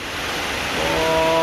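Steady rushing water flows continuously, a broad even wash of sound that swells slightly louder toward the end.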